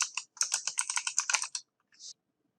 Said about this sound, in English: Go ahead and type the name of your project here.